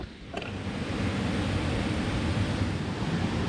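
Ramun waterfall on a forest trail, a constant broad rushing roar of falling water, steady and fairly loud, with no talking over it.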